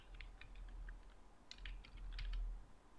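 Computer keyboard being typed on while text is entered into a fillable PDF form, a faint scatter of light, irregular keystrokes over low background hum.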